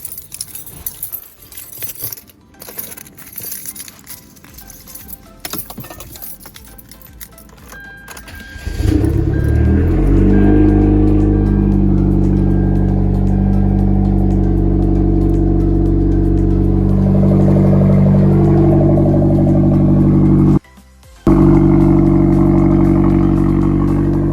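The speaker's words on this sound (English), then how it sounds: "Let me hit you guys for the cold start." A Hyundai Genesis Coupe cold start: keys jangle and click for several seconds, then the engine cranks and catches into a loud, steady high idle. The idle holds, with one brief cut, until the end.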